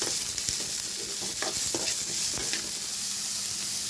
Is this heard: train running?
no